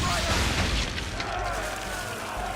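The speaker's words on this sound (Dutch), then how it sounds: "Hou dit ingedrukt om de draaikanonnen af te vuren." Swivel cannons firing aboard a ship in the video game Assassin's Creed III, heard as deep booming blasts that are strongest at the start and then settle into a lower rumble over the short stretch.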